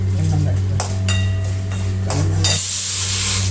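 Mustard seeds and asafoetida sizzle in hot oil alongside browned urad dal, a steady close frying crackle with a few brief stirring clinks of a utensil in the pan.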